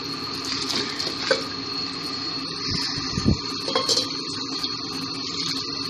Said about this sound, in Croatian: ja bar u sudoperu radim, pustim hladnu vodu radi voda